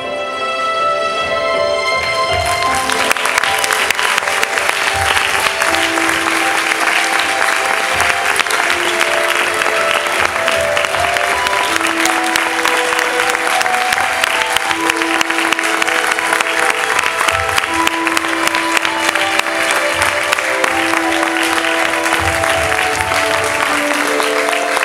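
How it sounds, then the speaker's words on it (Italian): Audience in a hall applauding after a film screening about trisomy 21, a long sustained wash of clapping from many hands with music playing underneath throughout. "grazie intanto per gli applausi"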